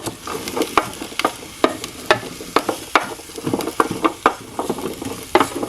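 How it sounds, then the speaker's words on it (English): Chopped garlic and three peppers sizzle in a Nesco 4-quart roaster oven while being stirred, with a steady frying hiss punctuated by frequent sharp scrapes and clinks of the utensil, close and alone. "It's starting to sizzle"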